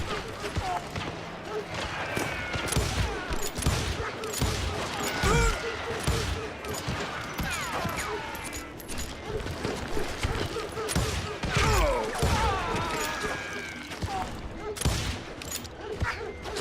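Gunfire in a Wild West shootout from the video game Call of Juarez: Gunslinger, with dense, rapid volleys of shots running throughout at steady loudness while voices shout over the fighting.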